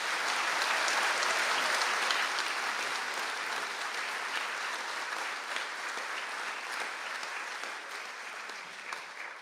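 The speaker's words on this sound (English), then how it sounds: "please stand for a very well-earned round of applause" Graduates stand while the audience at a Mayo conferring ceremony gives sustained applause: a continuous, even roar of many hands clapping at moderate loudness, fading slightly as it goes on.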